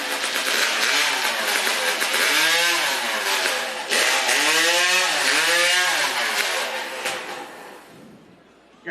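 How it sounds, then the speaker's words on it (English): A modified hot saw engine at a STIHL Timbersports Hot Saw Showdown sputters, then catches and screams at high revs, pitch rising and falling in loud revving sweeps before cutting off near the end. "Saw had been running well, but does not want to fire out of the gate. There it goes."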